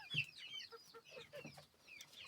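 A young rooster in a coop gives soft, close clucks and short chirpy calls in an irregular string, fairly quiet, with no talking.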